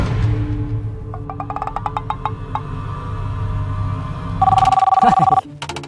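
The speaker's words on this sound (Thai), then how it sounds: "เดี๋ยวเดี๋ยวมีสายเข้ารับก่อนได้ไหมฮะ" A telephone rings with an incoming call in a Thai theatre drama, sounding a series of repeated electronic trills that are followed by a louder, sustained ring burst, with voices talking underneath.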